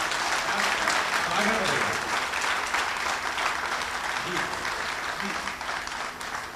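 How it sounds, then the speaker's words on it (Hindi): An audience at a comic poetry performance claps loudly and steadily, a dense wash of applause that tapers slightly toward the end, with a voice faintly underneath. "एक बार सारे लोग जोरदार तालियां बजा दीजिए"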